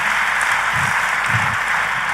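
A church crowd claps in a sustained, even roar of hands, close and full, with a few low thumps or stray sounds under the continuous applause.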